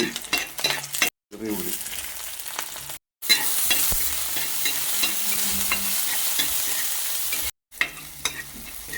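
Curry leaves are stirred into ground masala paste of coconut, ginger, garlic and green chilli in a pan, a steady close sizzle with scraping stirs and small clatters, interrupted by short silent cuts.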